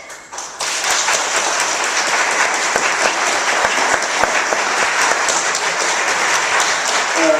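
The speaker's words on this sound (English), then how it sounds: "Can we hold our applause until the very end, out of respect for all the candidates and the time?" Debate audience breaks into sustained applause, a dense, steady wash of many hands clapping loudly without pause.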